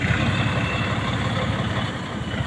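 A 6M70 trailer truck engine idles at a tight loading dock, a loud, steady low rumble that holds evenly throughout with no break.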